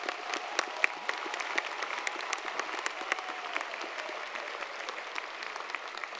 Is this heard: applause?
yes